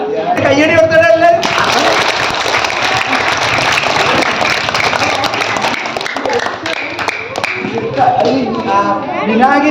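Children at a school event at Thavath Devivilasam LP School break into sustained, loud clapping for several seconds. Adult talk is heard before and after the applause.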